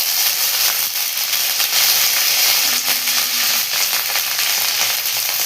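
Fenugreek seeds and curry leaves sizzle in plenty of hot oil for a prawn curry, a loud, steady, crackling hiss that fills the whole stretch without a pause, with no voices over it.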